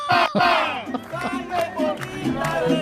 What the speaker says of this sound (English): there was a crowd of 500 people